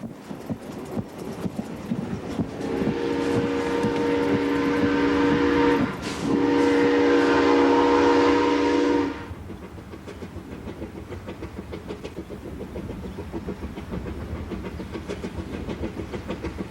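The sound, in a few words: steam train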